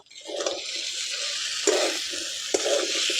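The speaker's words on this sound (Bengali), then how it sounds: "এখন ভেজে রাখা আলু আর কাঁঠালগুলো দিয়ে দেবো একসঙ্গে ভালো করে কষে নেব" Fried potato and jackfruit pieces stirred in spice paste in a pan for echor chingri, a steady loud sizzle with a few sharp scraping stir strokes, no voices.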